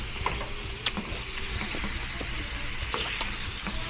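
Pork, shrimp and beef stir fry sizzles steadily in a hot pan, with a bright continuous hiss broken by small pops and crackles, close and moderately loud, no voices.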